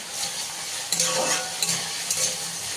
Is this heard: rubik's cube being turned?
no